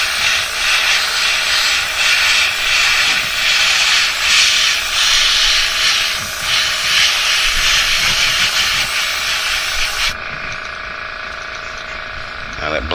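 Spray paint mists in a steady, close hiss onto a gill plate, laying a brilliant purple fade over blue, then cuts off near the end and leaves a quieter, thinner hiss.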